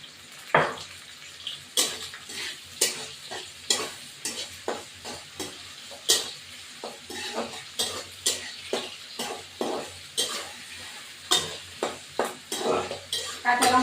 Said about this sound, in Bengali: লঙ্কাটা ভেজে দিয়েছি। এবার এটা ভাজা ভাজা হোক।